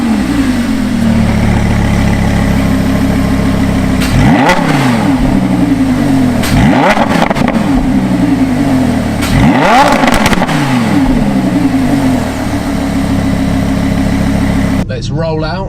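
A Lamborghini with a 5.2-litre V10 mounted behind the driver's seat idles with a steady low rumble, then blips its throttle in three sharp revs that rise and fall back. Talk runs over the engine throughout.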